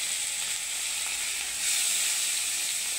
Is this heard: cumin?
yes